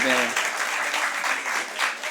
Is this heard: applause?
yes